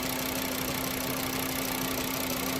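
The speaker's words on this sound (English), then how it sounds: "Now I'll let it come down off of idle. Let it run for a bit." A 2009 VW Beetle with a 2.5L five-cylinder engine, just fitted with new spark plugs and coils, idling close by with a steady, even hum and no change in pitch or level.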